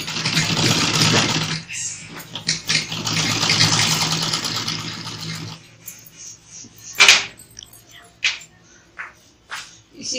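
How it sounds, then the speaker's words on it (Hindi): Sewing machine stitching the shoulder seam of a blouse, a dense rapid whirr for several seconds, then stopping and giving way to short bursts and handling clicks, close by with a faint voice. "अब इसकी कंधे पे लगाएंगे सिलाई।"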